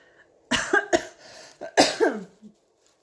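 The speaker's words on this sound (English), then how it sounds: "Please excuse the cough." A person coughs several times in quick succession, close and fairly loud in a quiet room, the last cough trailing off into a short throat sound.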